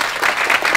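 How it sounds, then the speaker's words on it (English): Quick burst of audience applause at a high school greenhouse ribbon-cutting ceremony, close, dense and steady clapping. "So quick round of applause for Mr."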